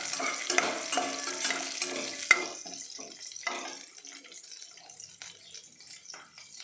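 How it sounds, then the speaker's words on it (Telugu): Green chillies and curry leaves fry in a hot pan with a loud, steady crackling sizzle and a few sharp pops, then settle into a softer, thinner hiss with occasional spatters as stirring continues. "ఇప్పుడు మనం ఇందులో పచ్చిమిరపకాయలను, కరివేపాకు వేసుకున్నాం. బాగా ఫ్రై చేసుకోవాలి"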